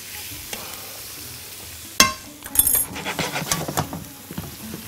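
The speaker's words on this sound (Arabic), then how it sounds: "ونقلب سمكنا." Tilapia fish frying in a pan is flipped with a sharp metallic clack, followed by a burst of crackling sizzle and spatter close by.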